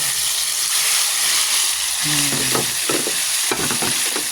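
Bananas frying in melted brown sugar: a loud, dense bubbling sizzle fills the clip, with a few scraping knocks of a utensil stirring the pan close by.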